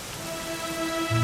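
Steady rain falls in a Dragon Quest XI game scene, a dense even patter with soft low rumbling beneath and a brief louder low swell at the end; no one speaks.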